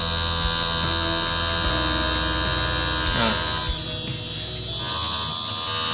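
A small RS-540 6V Johnson DC motor runs on a speed controller, giving a constant loud electric buzz with steady tonal whine that dips slightly in pitch toward the end.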